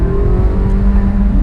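A powerful new C8 Corvette Z06 engine drones loudly and close, a sustained revving roar lasting about a second and a half with no voices.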